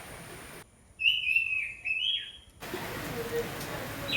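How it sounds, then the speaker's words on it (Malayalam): A single bird calls in a garden with a brief, clear whistled chirp and a fainter follow-up note, heard close against quiet outdoor background hiss. "വളപ്പിലേക്ക് ചെല്ലുമ്പോൾ കിളികളുടെ കിന്നാരം പറച്ചിലാണ് കേൾക്കുന്നത്"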